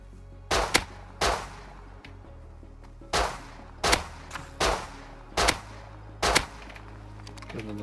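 Gunfire in the survival game Rust: about eight sharp, loud shots spaced roughly a second apart, each with a short decaying tail, over a quiet steady background.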